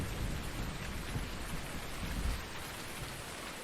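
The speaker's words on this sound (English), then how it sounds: "It's raining, it's pouring." Steady rain pours down in a farming simulation game, a dense constant wash of droplets with rumbling thunder underneath, no voices present.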